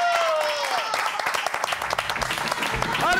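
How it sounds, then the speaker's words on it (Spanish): A TV studio audience breaks into applause, with clapping and cheering rising beneath excited voices and shouts, growing denser and steadier toward the end. "¡Un aplauso!"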